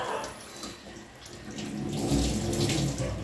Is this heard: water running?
yes